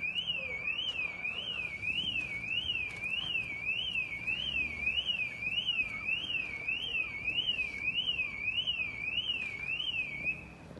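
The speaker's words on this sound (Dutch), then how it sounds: "gaat een alarm af. Sorry voor het geluid." A car alarm going off outdoors in a residential neighbourhood, its wailing siren tone sweeping up and down in a rapid, regular cycle for about ten seconds, fairly prominent over quiet background noise.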